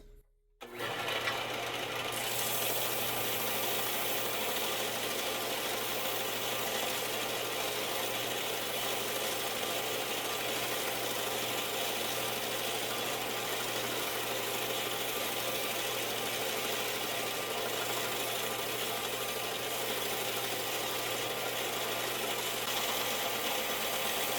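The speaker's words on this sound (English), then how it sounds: "I'm going to quickly move over to the sander." A steady electric sander drones continuously and fairly loud from just after the start, an even motor whine with no pauses and no talking, in a workshop restoring an old rocking horse.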